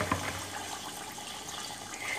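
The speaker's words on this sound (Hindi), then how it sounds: "अब पानी डालते हैं इसके अंदर" Water is poured into a cooking pot holding rice, giving a soft, fairly faint trickling and splashing that fades after a brief start, with no talk over it.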